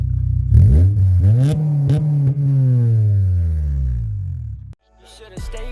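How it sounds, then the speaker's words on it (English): An Acura TSX with a Skunk2 Racing exhaust revs once, the engine note climbing and then slowly falling back toward idle, loud and close, before cutting off into a brief silence and some noise. "Rev it."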